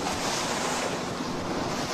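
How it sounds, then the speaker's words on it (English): Ocean surf breaking close to shore in building seas on a lee shore, a steady loud roar of crashing waves with wind noise washing over the microphone throughout. "the waves that had been breaking only 50 feet from shore were now breaking closer to us than the shore"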